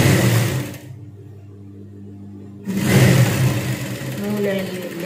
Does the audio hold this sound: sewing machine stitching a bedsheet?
yes